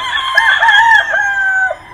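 A young gamefowl stag, a Class AB Kelso, crows once loudly and close, one drawn-out cock-a-doodle call lasting under two seconds with little else around it.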